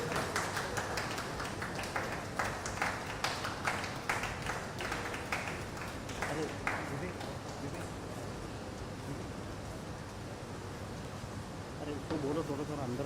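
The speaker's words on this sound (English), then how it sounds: "Can we please have a round of applause for our second place, Pooja Aarti Raghu and Ratika Seelan" An indoor audience claps steadily at a squash doubles national championship prize ceremony in Chennai, a sustained patter of many hands at moderate distance that gradually thins out.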